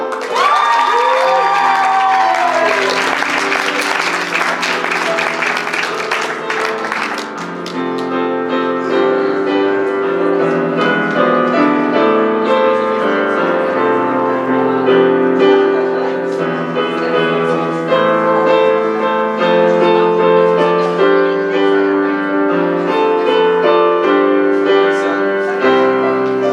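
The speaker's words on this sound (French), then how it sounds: "Applaudissez en grand nombre Thalie Picard." A large crowd at a school graduation ceremony applauds and cheers loudly and continuously, with whoops and shouts rising early before settling into sustained clapping over music-like tones.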